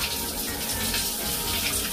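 A cold shower running after a hot sauna, steady hissing water spray close by, continuous and even with no talking.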